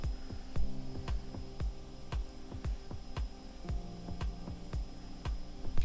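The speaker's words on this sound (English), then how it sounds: "Hopefully my clothes washing machine is not too noisy for you guys." A clothes washing machine runs in the background indoors, giving a low, faint hum with regular thumping pulses that repeat steadily throughout.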